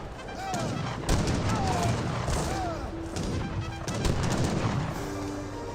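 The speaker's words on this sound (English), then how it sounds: "but now got the light cannon firing away." Light cannon and musket fire pound away in an Age of Empires 3 battle, a dense, continuous clatter of shots and booms with whooshing effects, while a caster talks over the din.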